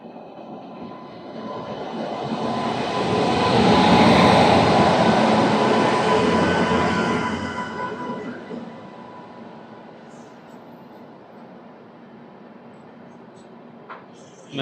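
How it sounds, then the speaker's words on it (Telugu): The Machilipatnam–Dharmavaram Express rolls past with a broad rushing rumble that swells to a loud peak midway, then fades into a quieter steady roar as the coaches pull away. "మచిలీపట్నం ధర్మవరం ఎక్స్ప్రెస్"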